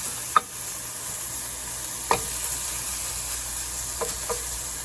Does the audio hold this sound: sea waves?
no